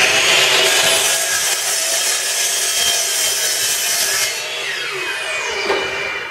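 Miter saw cutting wooden corner ribs for cart legs, a loud close whining rip that runs continuously for several seconds, then drops off as the blade spins down.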